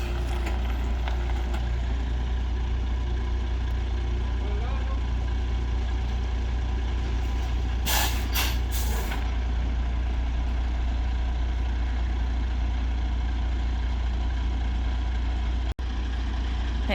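Large truck engine idling nearby with a steady low rumble throughout, interrupted around the middle by several short sharp bursts of hissing air from the brakes, with no talking.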